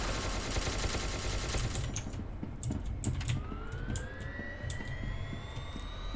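Rapid gunfire rattles in SCP Secret Laboratory, a dense burst of shots up front thinning into scattered sharp cracks, with a rising siren-like tone drifting in behind.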